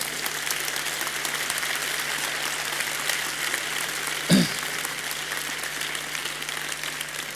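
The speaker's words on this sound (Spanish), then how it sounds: "Vamos a aplaudir." Audience at an education talk applauding, a steady wash of clapping that stays fairly even across the whole stretch, with a brief thump partway through and no voices on top.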